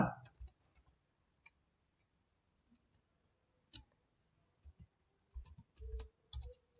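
Scattered keystrokes on a computer keyboard while text is entered into an MS Word document, with light irregular clicks and short bursts spaced apart at close range in a quiet room.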